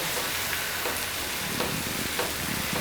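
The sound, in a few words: malai toast being pressed and toasted on a hot griddle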